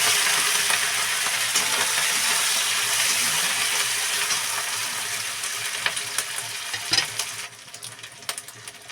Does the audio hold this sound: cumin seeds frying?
yes